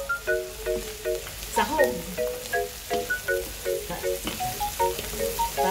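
Hotdog pieces frying in a pan with leftover rice, a close, steady crackling sizzle with spatters, while a voice speaks briefly over it.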